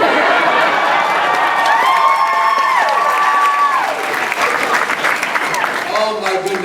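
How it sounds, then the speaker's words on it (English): Loud convention crowd applause at a comic con Q&A, a dense, sustained roar of clapping and cheering with shouting voices rising above it. "but I need applause, all right?"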